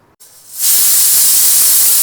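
A pressure cooker cooking palau releases its steam in a sudden loud, steady hiss that starts after a brief pause and keeps blowing at full force, close by with no other sounds.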